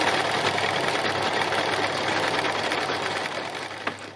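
A sewing machine stitching free machine embroidery with dark thread, its fast, steady mechanical whirr running close and loud for nearly the whole stretch, easing slightly near the end, with no talking.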